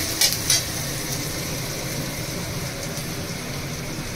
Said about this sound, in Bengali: পেঁয়াজটা ভেজে নিচ্ছি।